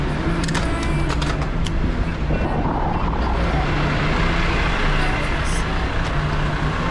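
HGV truck driving in road traffic, a steady broadband engine and road rumble that holds throughout, with a few brief sharper sounds near the start.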